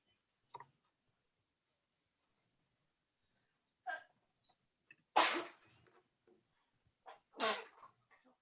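A single sharp sneeze bursts out in a quiet room, preceded by a few faint breaths and followed by softer voice sounds.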